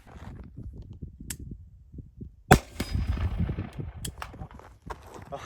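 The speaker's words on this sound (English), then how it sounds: "my favorite thing to shoot on this planet, Diet Mountain Dew caliber cartridges at steel targets" A single sharp gunshot from a small-caliber rifle firing blanks at steel targets in a desert gorge, loud and close, with a ringing tail, followed by a faint later crack amid low background noise.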